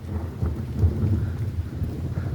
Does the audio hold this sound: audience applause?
no